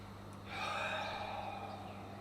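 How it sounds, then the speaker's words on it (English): One deep breath drawn in and slowly released during a movement session, a soft, airy rush that swells and then fades, close and alone over a low steady hum. "One more deep breath."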